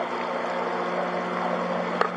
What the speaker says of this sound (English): just outside mowing the lawn